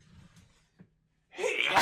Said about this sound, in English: it's nice to know that I don't just sneeze at home.